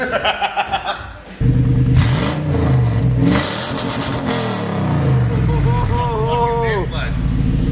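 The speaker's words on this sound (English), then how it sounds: "when you're doing an exhaust, you gotta hear it wide open" A Toyota Tundra pickup with a newly fitted exhaust on rusty pipes revs hard, the engine note climbing and falling through several loud pulls close by, with brief voices mixed in.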